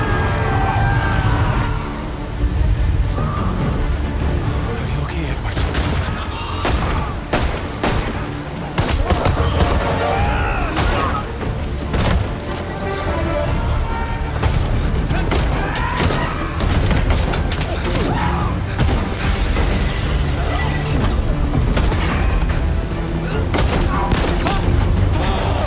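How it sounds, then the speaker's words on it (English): Battlefield 1 combat on PlayStation 4 Pro: repeated sharp gunshots and bursts of rapid fire crack over booming explosions and a constant loud battle din, with a player's voice talking now and then. "Explosion."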